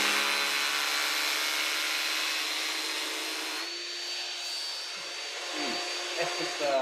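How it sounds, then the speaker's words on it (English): A Würth cordless battery vacuum, connected to an SDS drill and sharing its battery, runs with a steady, close whining drone that shifts slightly in pitch partway through, with a few faint knocks near the end. "We heard the vacuum there just doing its work."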